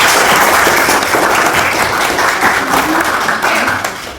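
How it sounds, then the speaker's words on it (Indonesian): A classroom audience of students at a school focus group discussion claps in a dense, steady burst of applause that fades slightly near the end. "Oke, berikan aplaus sama mereka."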